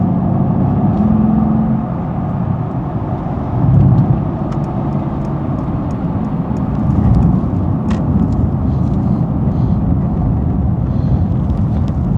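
Steady road roar of a car driving in highway traffic, heard from inside the vehicle as a loud, continuous low rumble with slight surges as it accelerates.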